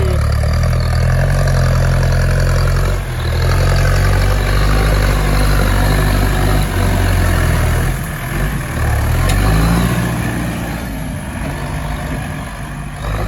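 A Massey Ferguson 4708 85 hp tractor engine runs steadily and loudly up close in a low diesel drone, pushing a paddy-field bund in gear H3, with the load shifting slightly partway through.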